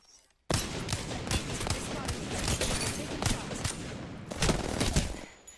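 Rapid gunfire in a 1v1 video game match, a loud burst that starts abruptly and keeps going as dense, continuous shots for several seconds before tapering off.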